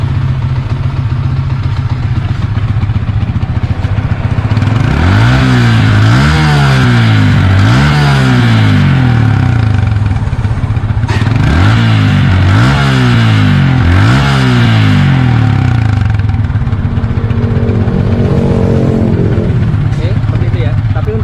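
A Yamaha Vixion motorcycle engine, smoking slightly and low on power, idles loudly up close and is revved repeatedly in rising-falling bursts, with a steady mechanical clatter throughout.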